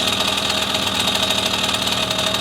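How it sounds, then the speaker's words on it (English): A 1974 Honda MR50 engine running with its carburettor being adjusted, a steady close buzzing drone that sags into a lower, labouring tone as the revs drop, loud and alone. "ting, ting turns into more of a brrr. Okay? Hear that? RPMs dropping, lugging."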